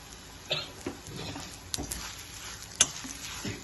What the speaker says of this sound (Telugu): తాలింపు బాగా ఇట్లా క్రిస్పీ క్రిస్పీగా వేగాలి